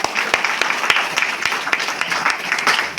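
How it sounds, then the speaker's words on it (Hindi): Audience applause at a motivational business meeting, a burst of clapping from a gathered crowd with distinct hand claps sounding through for about three seconds. "उस बिटिया के लिए एक जोरदार तालियां हम बजा।"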